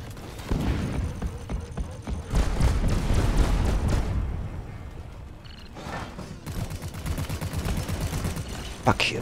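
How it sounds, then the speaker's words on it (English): Machine gun fire from the video game Deep Rock Galactic: dense, rapid volleys of shots at full loudness throughout, with a brief dip midway, mixed with other game noise and a voice talking. "Machine gun!"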